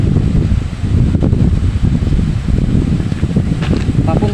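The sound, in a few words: strong typhoon wind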